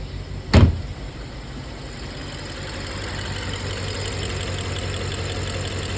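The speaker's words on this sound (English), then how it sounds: "Engine's still vibrating a little bit" A BMW 650i Gran Coupe with the N63TU engine and 185K miles idles with a slight vibration, a steady, close low rumble that follows a single brief thump near the start.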